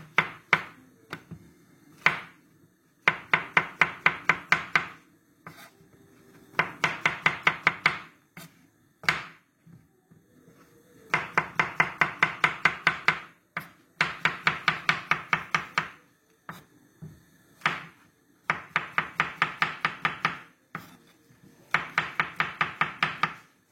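Rapid rhythmic knife chops of eggplant on a cutting board, in repeated bursts of about a dozen strokes separated by short pauses, close and crisp.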